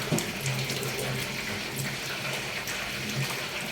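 Tap water runs steadily into a sink as a peeled cucumber is rinsed under it in a home kitchen, a continuous close splashing hiss with small shifts as the vegetable moves through the stream.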